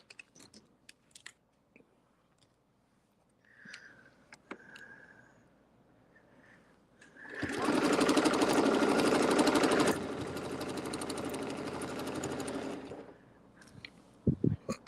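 Domestic sewing machine running steady ruler-quilting stitches along scallops, a loud continuous whirring motor hum with a slight speed change midway, preceded by small handling clicks.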